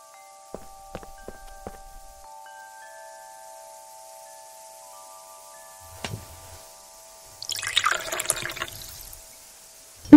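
Water sloshes and splashes as it is scooped up in the adventure game Book of Unwritten Tales 2, a short wet burst following a few soft taps and clicks over a quiet game backdrop.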